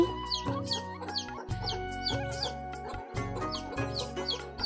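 Hens clucking among young chicks, a steady run of repeated clucks at close range over a dense, sustained tonal background, with no talk.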